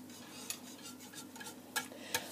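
Whisk stirring thick homemade yogurt in a crockpot, soft wet swishes with a few sharper metallic clicks against the pot, faint and close, no voices.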